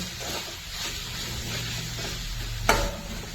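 A spoon stirs a fenugreek vegetable mixture in a hot pan with a soft, continuous scraping hiss and light sizzle. A single sharper clack sounds near the end.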